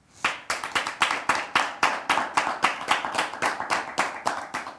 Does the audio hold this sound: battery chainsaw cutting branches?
no